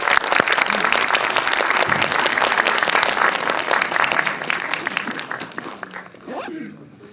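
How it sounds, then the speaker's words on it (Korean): Audience applause in a cinema during a Q&A session with directors Kim Seong-su and Kim Han-min in Jamsil, dense continuous clapping from a crowd that tapers off toward the end. "박수로 맞이해주세요"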